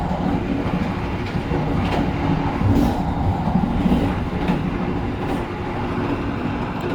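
A heavy container freight train hauled by a locomotive rumbles past steadily at close range in Indonesia, a dense low roar with faint rhythmic clatter of wheels on rails and no voices.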